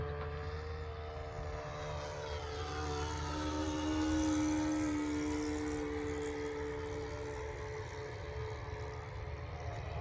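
A Sig Four Star RC model airplane with an enlarged rudder drones overhead in flight, its engine tone sliding and swelling to a peak midway, then easing off, with a steady outdoor background.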